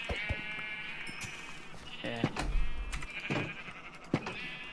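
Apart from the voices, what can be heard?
sheep bleating in Minecraft video game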